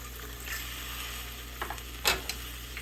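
Olives and raisins get stirred into a sizzling tomato-based beef stew, making a steady low frying hiss with a few soft scrapes and clacks from the spoon near the end, close and fairly quiet.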